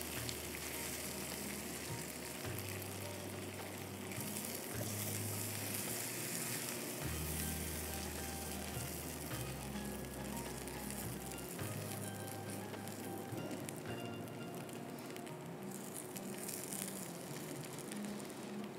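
Butter melts and sizzles in a pan as the first step of a tropical coffee custard pie crust. A steady, dense crackling fry runs for the whole stretch at an even level, close up, and nobody speaks.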